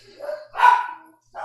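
Dogs bark indoors in two or three short, loud yapping bursts close by, with brief gaps between them.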